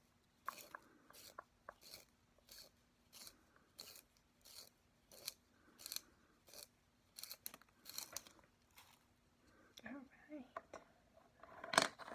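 Pencils are sharpened up close in a quiet room, giving rhythmic bursts of dry scraping and shaving strokes with short pauses between turns. Soft speech is heard now and then.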